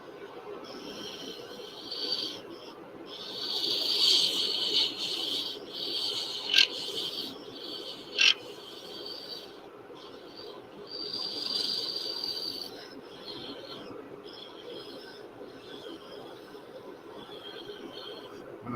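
A lathe tool shaves a diamond painting pen blank down slightly, giving a steady raspy, hissy cutting sound that swells and fades over several passes, with a couple of sharp ticks from the work.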